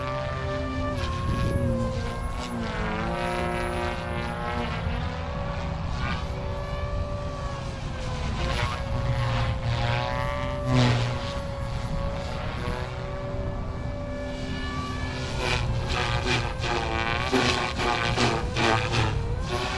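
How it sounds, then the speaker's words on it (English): An OMP Hobby M4 RC helicopter spools up in idle up two, its rotor and motor whine holding steady at high head speed with shifting tonal sweeps, loud and continuous throughout with no talking. "I will come into an idle up two. Got good head speed, still good tail performance, good power."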